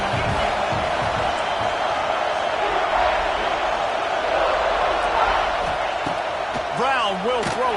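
Large stadium crowd roaring steadily at a Coastal Carolina vs South Carolina college football game, a loud sustained wash of cheering and whoops with a rising whistle near the end, commentators' voices faint beneath.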